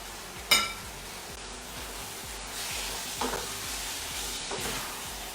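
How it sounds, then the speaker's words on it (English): Rendang chili paste from a full jar is stirred around in a hot pan, giving a steady sizzle with a sharp clink near the start and a few soft scraping strokes, with no talking. "rendang chili paste, I'm using a full jar, and let's just mix them around"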